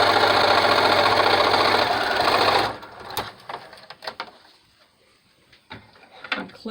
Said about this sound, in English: now we're going to go ahead and sew along the bottom